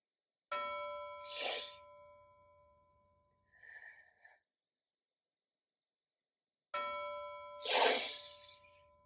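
Two clear bell strikes ring out several seconds apart. Each rings on with a long decaying tone and is followed by a soft breath. They mark a children's mindfulness cool-down, and a faint short chime sounds between them.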